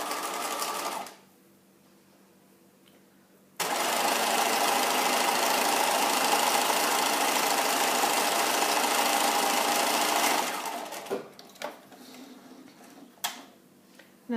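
A sewing machine stitches the first line of a French seam, a fast steady mechanical whirring for about seven seconds after a short earlier burst, then fabric handling and light clicks.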